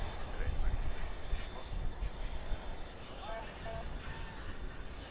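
A British Airways airliner sits in front of Terminal B at Dallas/Fort Worth airport at night, its steady distant jet rumble and whine carrying through the open air while a person talks over it.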